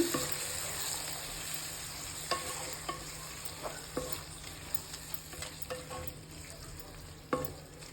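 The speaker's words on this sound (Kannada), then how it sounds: "ಸಾಸ್ ಹಾಕೊಳ್ಳಿ. ಫ್ರೈ ಮಾಡ್ಕೊಳ್ಳಿ." Tomato-based sauce for red pasta frying in a pan, a continuous soft sizzle under repeated light spoon scrapes and taps against the pan, close and moderately quiet, with no talking.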